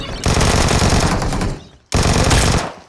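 Automatic gunfire in PUBG Mobile, two long, dense bursts of rapid shots, loud and close, separated by a brief pause, with almost no talk over them.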